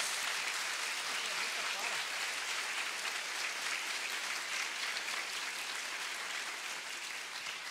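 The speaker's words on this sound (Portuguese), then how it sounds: "Pode aplaudir para valer." A Catholic prayer-meeting congregation applauds loudly and continuously, a dense, even roar of clapping filling the hall from start to finish.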